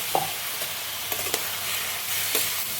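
Sugar, salt, nuts and raisins stirred with a little water in a pan, a faint steady sizzle with a few light spoon scrapes and clicks, close and quiet, no talking.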